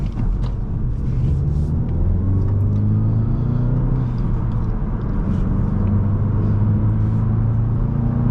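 A 2024 VW Golf GTI 380 SE's 2.0T engine hums and rumbles steadily from inside the cabin while driving, a loud low drone holding even throughout.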